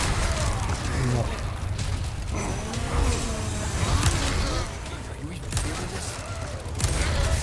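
A Handcannon magnum fires in Resident Evil 4 Remake, heavy booming shots that blend with constant dense game noise and music.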